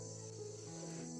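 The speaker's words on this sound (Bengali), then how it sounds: "চারদিকে ঝিঝি পোকার ডাক" Crickets chirping at night beside the Kangsabati river near Bardi Pahar, Bankura, a faint steady high-pitched trill in a quiet setting, continuous and unbroken.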